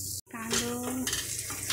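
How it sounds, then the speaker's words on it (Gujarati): Chopped onions sautéing in a pan for spicy Schezwan noodles, a close continuous sizzle with a brief cut at the start and light spatula scrapes against the pan. "કાંદાને થોડી વાર સાંતળવા દેવાનું"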